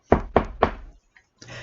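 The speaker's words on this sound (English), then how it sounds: "Then the eldest princess went to her bed and knocked on it." Three firm knocks on a wooden bed frame in a quick even rhythm, loud and close, followed by a brief quiet gap and then a low rustle.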